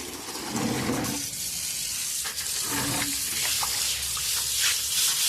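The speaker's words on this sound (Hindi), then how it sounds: "यहाँ पूरा काला हो चुका था ना, ये यहाँ पे मैं घिस कर धो रही थी।" A grimy, sticky floor is scrubbed and washed with water, giving a sloshing, hissing wash with rough scrubbing bursts that stays close and fairly loud throughout.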